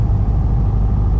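A small training airplane's engine powers up for takeoff, a steady loud low rumble that stays even and dense from start to finish with no voices.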